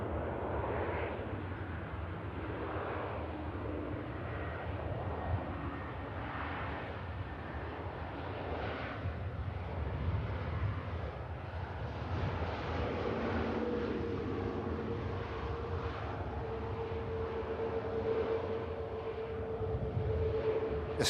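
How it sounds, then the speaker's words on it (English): A Ryanair airliner taxis past at Manchester Airport, its engines a steady low whine and rumble at moderate distance, holding evenly and swelling slightly toward the end. "Just coasting past us at the RVP, the Ryanair."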